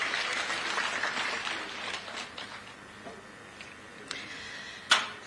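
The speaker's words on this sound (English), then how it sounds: "Let's give him a round of applause." Applause from the audience at an investment forum in Chinsali District, fairly loud at first, then thinning to scattered claps and a sharp knock near the end.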